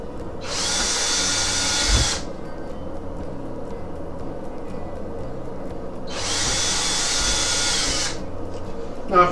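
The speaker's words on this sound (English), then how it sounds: "Drill my pilot holes." A power drill whirs in two bursts of about two seconds each, drilling pilot holes, separated by a quiet pause, loud and close.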